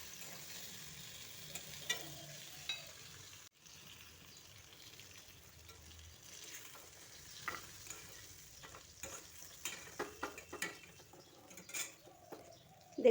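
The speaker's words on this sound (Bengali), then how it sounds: "এগুলোকেও একটু লাল লাল করে ভেজে নেব।" Potato pieces seasoned with salt and turmeric frying in a pan for a katla fish and pointed gourd dish, a soft, quiet sizzle broken by scraping stir strokes and light utensil clatter that grow busier toward the end.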